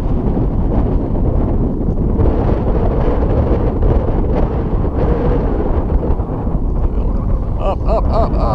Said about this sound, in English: That's wind right there.